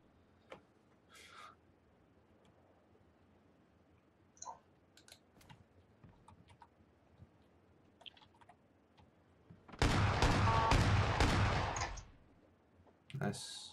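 Gunfire in PlayerUnknown's Battlegrounds: a loud two-second burst of rapid automatic shots, then a shorter burst, after scattered faint clicks and brief voices.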